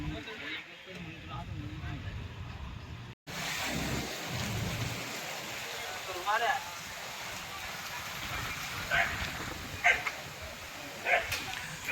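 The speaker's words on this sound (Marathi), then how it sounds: "पाऊस चालू झालेला आहे" Steady rain hisses quietly in the background, with a dog barking now and then and voices speaking.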